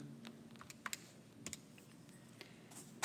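Soft, sparse clicks of computer keys being typed, a few quick taps scattered across a quiet background.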